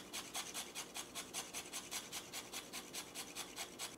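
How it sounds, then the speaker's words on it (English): Whole nutmeg is rubbed over a grater above a small bowl in quick, even back-and-forth strokes, a soft rhythmic rasping close by and fairly quiet. "First, I'm going to grate my nutmeg."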